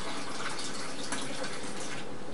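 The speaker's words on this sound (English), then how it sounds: "I'm going to put two cups of water in here." Water pours from a water filter into a measuring cup in a home kitchen, a steady close splashing trickle that holds evenly for a couple of seconds.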